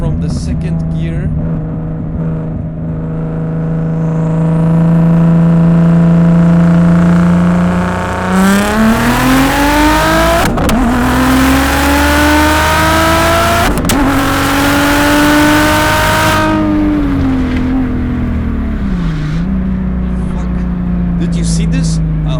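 Audi S4 B5 with its V6 biturbo pulling hard from second gear, the exhaust note climbing steadily through the revs, a brief dip between upshifts, then easing off; loud and close throughout.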